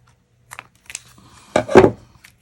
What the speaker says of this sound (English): So I just cut those leaves off